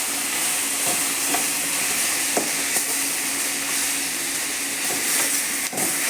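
Onions and greens sautéing in a pan, a constant broad sizzle with a few soft stirring knocks, close and steady.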